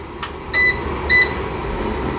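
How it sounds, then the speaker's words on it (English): Two short, bright electronic beeps from a coffee scale ready for a pour-over, about half a second apart, over a low background hum. "You can hear the little beep. That means this is ready."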